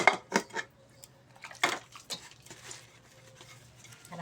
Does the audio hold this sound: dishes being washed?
yes